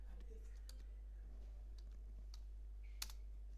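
A computer keyboard with scattered, faint, quiet key clicks over a steady low hum while a Linux command is typed.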